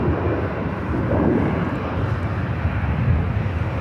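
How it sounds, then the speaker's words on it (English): A Delta Airlines Airbus A321 arrives at LAX with a loud, steady broadband jet engine roar that holds throughout, close by with some wind noise. "Next arrival is a flight coming up from Salt Lake City. Delta Airlines flight 829. It's an A321."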